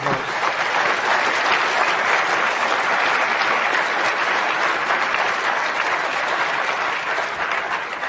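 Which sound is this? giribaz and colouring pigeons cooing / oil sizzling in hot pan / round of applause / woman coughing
round of applause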